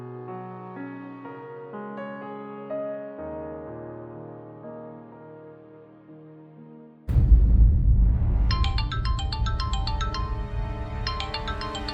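A melodic phone ringtone plays alone, a simple tune of steady tones, then a louder, brighter ringtone with fast repeated high notes takes over.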